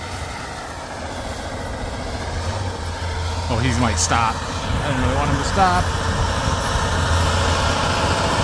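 A John Deere 9RX 640 tractor engine idles as a steady low, even rumble close by, running throughout under a voice talking.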